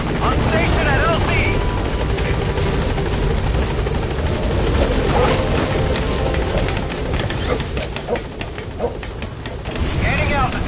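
The Pequod helicopter in Metal Gear Solid V: The Phantom Pain arrives and hovers at a landing zone, a loud continuous rotor roar throughout with radio voices speaking over it.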